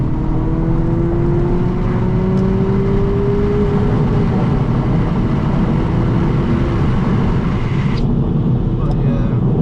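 A modified 2022 Honda Civic Si drives at night with a loud, steady engine and exhaust drone that climbs slowly in pitch. One or two sharp crackles cut through the rumble near the end.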